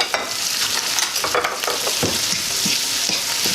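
Tomato, onion and garlic frying in a pan for Jamaican ackee and saltfish, a loud, continuous close-up sizzle with faint stirring scrapes and no talking.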